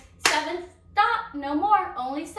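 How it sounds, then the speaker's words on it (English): Children in a classroom math circle clap out a count together, one sharp clap ringing out before several young voices carry on counting close by. "let's clap out 7"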